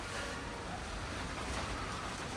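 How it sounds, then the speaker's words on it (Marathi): Steady wind blows in a broad, even roar, fairly faint and unbroken throughout, with no voices. "अरे चांगला वारा चालू आहे"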